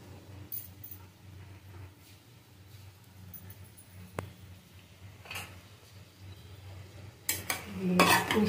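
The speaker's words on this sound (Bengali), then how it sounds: "মিশিয়ে দেবো, ভালো করে কষিয়ে নেব।" A spoon scrapes and clinks in a pan of elephant foot yam and prawns sautéing with green chilli, ginger and turmeric, with a faint sizzle under intermittent metallic taps and a louder clatter near the end.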